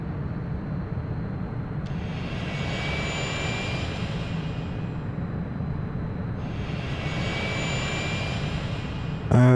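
An aeroplane engine in the city-building game Workers & Resources: Soviet Republic drones steadily with a constant roar, a higher whine rising and falling twice over it, and a brief louder click at the very end.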